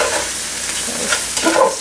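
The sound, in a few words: stirring cabbage cooking in a pan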